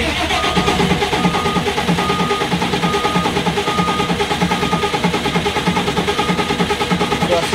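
A 200 kVA generator engine cranks without firing, a loud steady starter churn with a fast regular pulsing rhythm that carries on unbroken the whole time.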